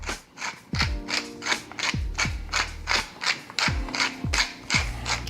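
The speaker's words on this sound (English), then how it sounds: "And now we'll grind a little pepper." Repeated rhythmic grinding and clicking of a pepper mill being twisted, close and fairly loud, in a steady series of turns with no talking.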